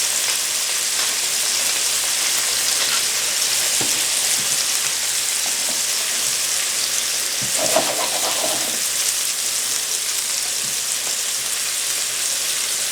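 Hamburger patties sear in a hot pan, a loud, steady close-up sizzle and crackle running continuously, with a brief flare of sputtering partway through.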